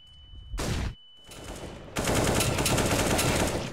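Rapid automatic gunfire in CS:GO during a match ending in headshots, a short loud burst, a brief pause, then a longer sustained stream of shots up close, with no talking.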